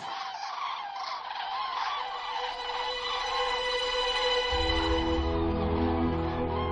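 A large flock of migrating birds arriving in early November, a dense, loud mass of overlapping calls and cries that swells and thickens toward the end, with a low rumbling layer joining partway through.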